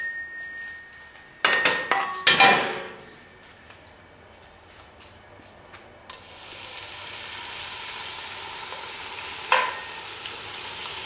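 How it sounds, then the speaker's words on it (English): Bacon laid into a Dutch oven, a few clattering scrapes and knocks early on, then a steady hiss of frying fat that swells and holds, fairly close with no talking. "We're going to put this bacon in the Dutch oven to create a little grease on the bottom"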